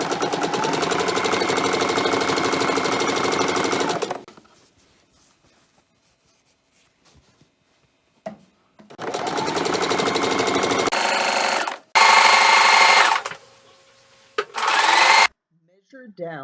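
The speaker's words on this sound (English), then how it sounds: "Sew a straight stitch down the front to hold the edge in place." A sewing machine runs a straight stitch down the front edge of a fabric cape, its steady close whirring buzz lasting several seconds, then stopping and restarting in shorter bursts separated by quiet pauses.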